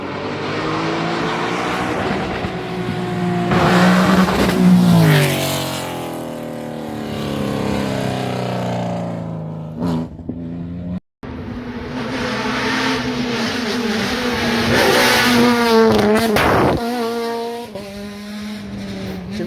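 A Porsche rally car at a Corsica rally in 2023 screams past loud and near, engine revving hard through the gears. After a brief cut a second high-revving pass-by follows, with rising and falling engine pitch.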